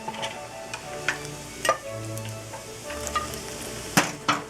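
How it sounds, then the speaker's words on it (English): Food frying in a pan after being deep fried until crispy, with a steady sizzle and scattered clicks and scrapes of a utensil against the pan, close and fairly quiet, with no talking. "And let this fry up a bit"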